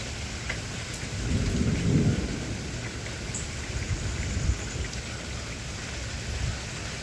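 A thunderstorm with steady rain falling and a deep roll of thunder swelling near the start, then rumbling low beneath the constant hiss of rainfall.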